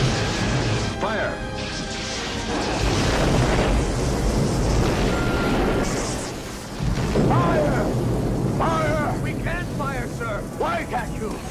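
Heavy crashing explosions from a starship battle in the film Star Trek II: The Wrath of Khan, with broad rumbling blasts that swell and fade under shouted voices and a dense cinematic backdrop.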